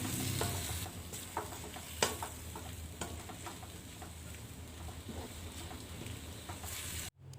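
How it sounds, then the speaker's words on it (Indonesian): Carrots and cabbage for capcay are stirred in a pan, with soft scraping and clicking of the utensil over a steady low sizzle, fairly faint and continuous without talking. "Lalu saya aduk-aduk kembali agar kubisnya ini layu."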